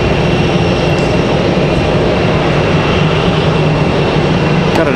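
An airplane at Raleigh-Durham International Airport produces a loud, continuous engine drone that holds steady throughout, with no clear talk over it.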